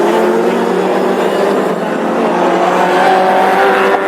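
Classic hot rod race cars roar around the Birmingham oval during a heat, engines loud and sustained, with harmonic engine tones rising as the pack comes through close by.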